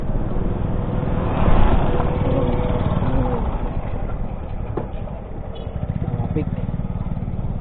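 Road traffic with motorcycle engines, a continuous close rumble of idling and revving motors, with people talking underneath throughout.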